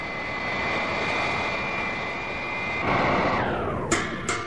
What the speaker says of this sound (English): Robot plane slow to rendezvous with ship and hover